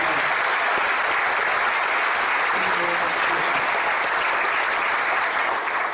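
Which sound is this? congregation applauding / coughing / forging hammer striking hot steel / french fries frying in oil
congregation applauding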